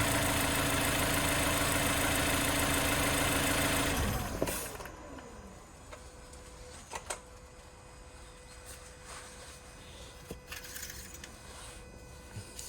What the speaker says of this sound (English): So no strange noises, everything is nice and sweet. Engine's nice and quiet.